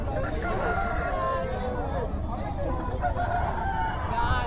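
A rooster crows amid the steady din of a country chicken market at Nallapadu, with clucking and a crowd murmuring throughout.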